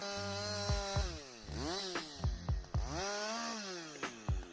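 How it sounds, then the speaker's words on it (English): A Stihl MS-881 chainsaw engine idles and revs repeatedly, pitch climbing and falling with each throttle burst, loud and close. "We're talking about a chainsaw with enough muscle to fell massive trees without breaking a sweat."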